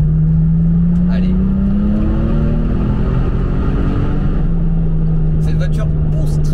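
Porsche 996 RTS3 engine pulling hard under acceleration, a loud sustained drone rising steadily in pitch, then dropping back to a lower steady tone as it shifts, with roaring road and wind noise throughout.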